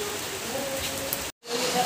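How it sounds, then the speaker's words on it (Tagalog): Heavy rain hisses steadily in a dense, constant wash, briefly cut by a moment of silence before resuming. "ang lakas ng ulan doon sa labas"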